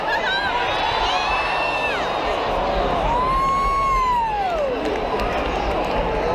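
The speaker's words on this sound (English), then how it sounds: "Got a decent little crowd tonight." A crowd at an outdoor World Juniors hockey game with USA playing keeps up a steady roar of cheering, with whoops and rising shouts layered over continuous background voices.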